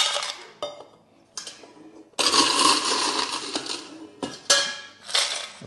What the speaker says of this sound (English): We're using OJ, so we're going to give it a nice shake